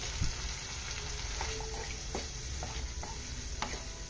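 A spoon stirs a chicken and milk mixture in a frying pan for chicken cheese samosa filling, with scraping strokes over a continuous close sizzle.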